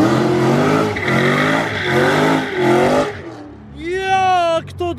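A 756 HP Ford Mustang Shelby GT500 engine drones loudly and close at a steady pitch, pauses briefly, then revs up in a sharp rising sweep before cutting off.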